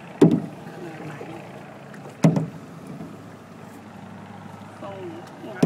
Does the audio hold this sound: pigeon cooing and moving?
no